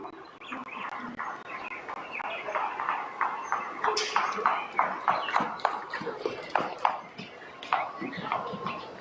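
A horse cantering on the left lead in an equestrian arena, its hoofbeats a quick rhythmic clip-clop, moderately close and fairly soft, with faint background sounds.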